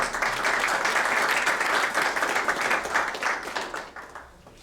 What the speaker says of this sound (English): I want to give our graduates a big round of applause for hard work